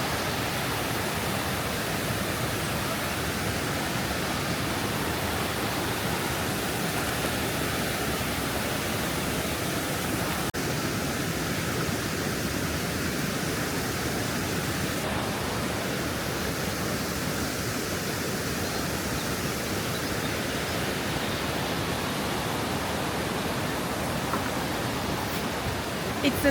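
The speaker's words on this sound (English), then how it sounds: "It's the sound of water and the birds and the frogs for me." Waterfall on the Krka River in Krka National Park, a steady broadband rush of falling water heard continuously and fairly close, with birds and frogs not clearly distinguishable beneath the constant roar.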